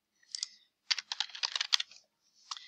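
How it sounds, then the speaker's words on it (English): Someone types a username on a computer keyboard: a short tap, then a quick run of close, crisp keystrokes, then another brief tap, all quiet with nothing else heard. "you're going to type in your username."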